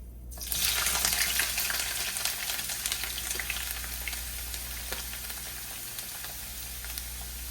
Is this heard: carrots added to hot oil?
yes